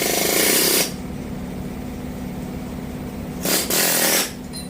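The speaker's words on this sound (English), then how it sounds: "I think I'm gonna try cutting the C-clip in half with the Nair chisel" An air chisel hammers at a C-clip on the axle of an 8.5 rear end during a broken axle replacement, giving two loud, harsh bursts of rapid pneumatic hammering with a quieter stretch between them.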